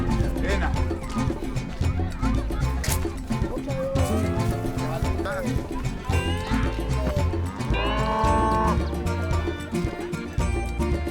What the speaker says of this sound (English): First time we ever had a cow on the street.